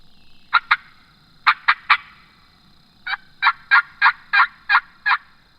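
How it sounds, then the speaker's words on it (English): A wild turkey gobbler gobbles on public land in Florida: two quick gobbles, then three more, then a run of about eight evenly spaced gobbles, clear and fairly strong against a quiet, faintly noisy outdoor background. "I haven't heard that bird in a while"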